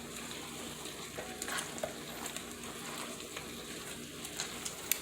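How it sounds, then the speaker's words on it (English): Hot wings sauce simmers and sizzles steadily in a pan, with faint scraping stir sounds and small crackles running through the steady frying noise, fairly quiet and close. "I'm going to let this cook for a minute like this before I add this. And we're going to give it a stir."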